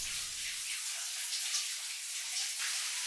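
Continuous rushing, splashing water in a narrow canyon where a rope drops into a waist-deep pool, a broad steady wash with brief louder splashes.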